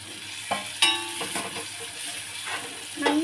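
Ingredients are sautéed in a hot pan while being stirred, with a sizzling hiss under sharp scraping and clinking strokes of the spoon, close and fairly loud.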